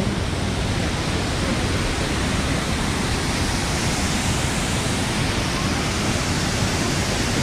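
Steady, loud roar of a waterfall pouring into the river below, heard from a bridge overlooking the falls in northern New Jersey; broadband rushing water fills the whole stretch without pause or voices.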